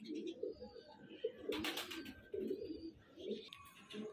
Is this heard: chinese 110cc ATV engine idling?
no